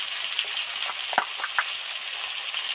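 Ginger and radhuni paste hitting hot oil after deep-fried potatoes for a vegetarian cabbage chorchori, a steady sizzle broken by a few sharp pops and the faint scrape of stirring.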